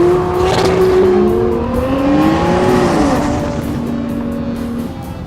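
A 1400-horsepower AMS Performance Alpha 12 Nissan GT-R powers out of a corner, its engine roaring loud and close with a brief tire squeal, revs climbing and then easing as the sound gradually fades.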